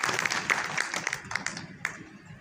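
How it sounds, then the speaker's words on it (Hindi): Audience applause at a Dainik Jagran Samvadi cultural event on Gorakhpur's history, a fairly faint, thin scatter of clapping from a modest crowd that tapers off over a couple of seconds. "आपसे उम्मीद करता हूं कि उनके समर्थन में एक बार तालियां बजाएं"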